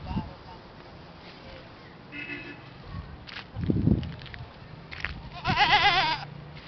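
Goats bleat a few times nearby in a residential subdivision, the last call long and wavering, amid faint rustling and footsteps outdoors.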